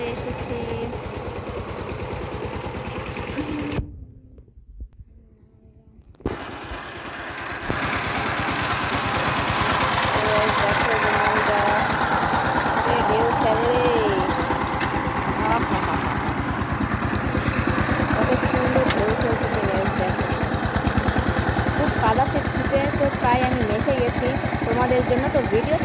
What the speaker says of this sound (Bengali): তো পাওয়ার টিলার প্রায় আমার কাছে চলে এসেছি।